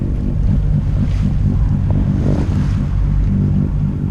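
A boat motors along St Ouen's Bay in Jersey, a steady low engine rumble mixed with wind buffeting the microphone and water rushing past the hull.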